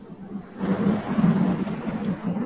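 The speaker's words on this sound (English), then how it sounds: "Thunder." Thunder from an incoming storm rolls in suddenly as a low, sustained rumble that swells and lingers at moderate loudness, with no voices.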